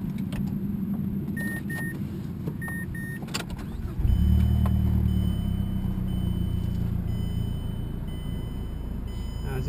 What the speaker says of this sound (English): Turn this on so you can hear it start.